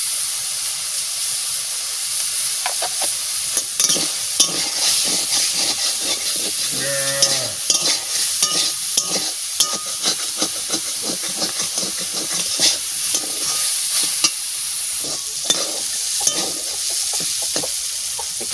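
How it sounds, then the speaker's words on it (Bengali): Soybean chunks sizzle steadily in a hot pan while a utensil repeatedly scrapes and stirs; a cow moos briefly in the background midway. "সয়াবিনটা একটু ভালো করে ভাজা ভাজা করে নিই"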